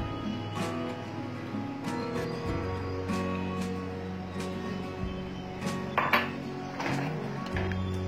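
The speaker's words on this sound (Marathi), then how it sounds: "ताक घालूया." Buttermilk goes into a pot of ash gourd kadhi and is stirred, the spoon clinking and scraping against the metal pot in repeated sharp taps with no talking.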